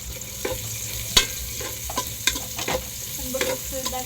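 Onions sizzling in a pan for sopas, a loud steady fry close by with repeated scraping stirs and spatula clicks, no talking.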